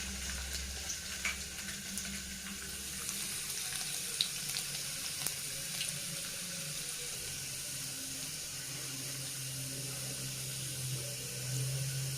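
Garlic fries in hot oil for Karnataka-style gongura dal, giving a steady close sizzle that runs the whole time, with faint stirring clinks.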